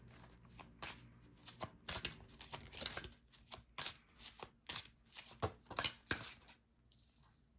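A deck of tarot cards is shuffled steadily, giving a run of quick riffling and slapping bursts at a close, even level with no one speaking.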